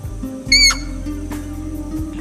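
A shrill, strident call of a ypaka'a rail rings out once, high and piercing, over a low steady hum of background noise at a lagoon in the Paraguayan Chaco.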